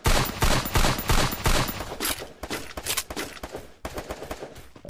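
Rapid bursts of automatic gunfire from a Garena Free Fire match, dense and loud for the first two seconds, then thinning into scattered shots and short volleys.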